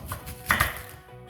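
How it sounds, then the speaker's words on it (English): A knife slices through an onion on a cutting board, two close, crisp cuts landing in quick succession, with a few quieter taps before and after and no talking. "We're just going to slice this onion into"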